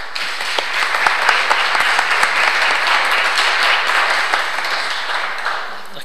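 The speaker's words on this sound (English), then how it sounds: "Please, no comments and clapping and things like that." Audience applause at a religious debate on the crucifixion and resurrection of Jesus, loud sustained clapping from a large crowd that swells and then tapers off.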